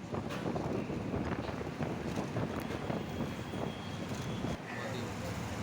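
Strong wind rushes past a microphone on a moving bus, a loud, steady, close roar of buffeting air that eases slightly near the end.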